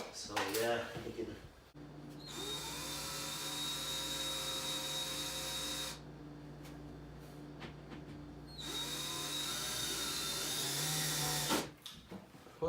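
A power drill drives tiny screws while building a DIY canopy, whirring in two long steady runs with a short pause between, close and fairly loud, with brief handling noises at the start and end.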